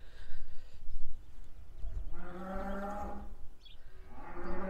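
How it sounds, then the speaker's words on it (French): Dairy cows let out of a barn moo loudly, with two long, harmonic lowing calls in the second half over low shuffling and background farm noise. "Je fais sortir les vaches, toutes les vaches"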